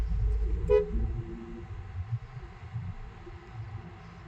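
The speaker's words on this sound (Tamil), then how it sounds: "ஹெவி வெஹிக்கிள்ஸ், டிராஃபிக் அதிகமாகுது." Car horns toot briefly in heavy road traffic with large vehicles in Coimbatore, one short honk standing out near the start over a steady low rumble of engines and passing traffic.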